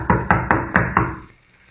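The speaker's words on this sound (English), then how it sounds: "Pounding on the door isn't going to do any good either." Someone pounds on a door in an old-time radio drama, five firm, evenly spaced knocks close up, then the sound fades to quiet.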